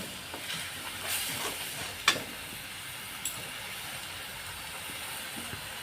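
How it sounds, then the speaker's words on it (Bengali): Spice paste for rohu fish chilli curry being stirred and fried in a pan, a steady soft sizzle with a few light scraping clinks, fairly quiet and continuous with no talk. "দেখুন আমি অনাবৃত নেড়ে মশলাটাকে ভালোভাবে কষিয়ে নেব"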